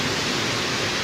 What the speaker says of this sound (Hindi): पानी का शोर सुने, पानी का।